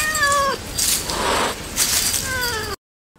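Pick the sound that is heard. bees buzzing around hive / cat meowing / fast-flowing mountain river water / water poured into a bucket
cat meowing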